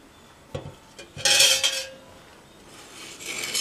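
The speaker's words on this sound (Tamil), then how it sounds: "நம்ம இந்த மிளகாயை இந்த ஒரே ஒரு சைடு மட்டும் கீறி விட்டுடலாம்" A knife slits green chillies for bajji on a kitchen surface, giving a few sharp taps and scraping clinks against a plate or board, close and brief with pauses between.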